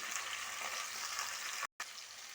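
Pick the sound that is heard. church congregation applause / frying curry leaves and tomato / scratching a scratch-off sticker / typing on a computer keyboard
frying curry leaves and tomato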